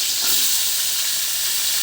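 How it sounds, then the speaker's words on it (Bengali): Duck meat sizzles and crackles loudly in hot oil in a karahi, a dense, continuous frying hiss up close, with no talking. "আমি কড়াইয়ে তেল গরম করতে দিয়েছি আমি এখন হাঁসের মাংসটা আগে আমি ভেজে নেব"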